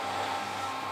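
A floor buffer spreads finish over a hardwood floor, giving a steady, close, whirring motor drone with no talking.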